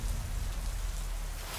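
Heavy rain roars as a dense, continuous wash with a deep low rumble, loud and alone, used as a sound effect in a Hindi horror story.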